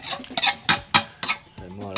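Stir-fried coconut-milk curry sauce for Thai khanom jeen nam ya is tipped from a pan into a pot, with sharp metallic clanks and scrapes of a utensil against cookware, several quick knocks spaced through two seconds.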